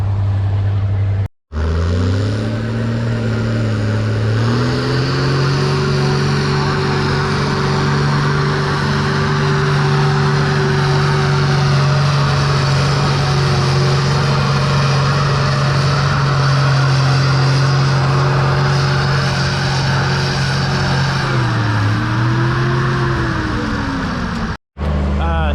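A 1955 Oliver tractor with a Cummins swap, pulling in a 12,000-pound class at a tractor pull, drones loud and steady for a long stretch, rising briefly at the start and dipping near the end.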